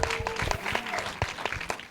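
Audience applause at a pitch deck show-and-tell event, a steady patter of many hands clapping close by for about two seconds with no speech over it.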